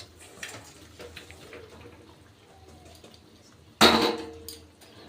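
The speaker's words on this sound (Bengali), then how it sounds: "এবার আমি দিয়ে দিচ্ছি ভেজে রাখা শোল মাছ" Pieces of fried snakehead fish drop into a simmering curry pot with cauliflower and potato. After quiet, soft kitchen noise, one sudden loud splash and hiss rises and then fades away.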